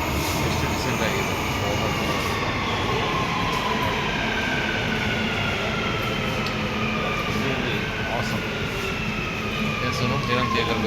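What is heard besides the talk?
metro train at a Dubai station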